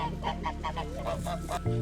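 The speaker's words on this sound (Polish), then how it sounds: "Gęsi przy podlewaniu grzybów właśnie e, zażywają kąpieli." A flock of geese bathing during watering honks repeatedly in quick, overlapping calls, fairly close and loud, with no talking.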